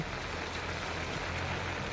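Heavy rain pours steadily on a mango farm, a dense, continuous hiss with no pauses or voices.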